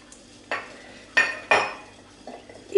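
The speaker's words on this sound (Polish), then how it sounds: "taki kawałek seleru i kroimy na grubsze części" A knife cuts a piece of celery into thick chunks on a cutting board for homemade vegetable broth. Three sharp, close chops sound alone, followed by a softer tap.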